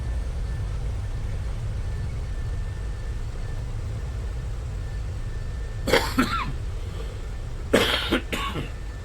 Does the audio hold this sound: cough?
yes